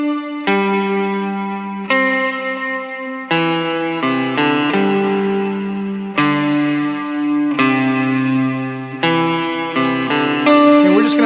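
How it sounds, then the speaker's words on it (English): Electric guitar strums a worship-song bridge chord progression through reverb. Sustained chords are struck about every second and a half, each ringing out and washing into the next, with no voice. "I will turn the reverb back on, and we're just going to play that same bridge progression"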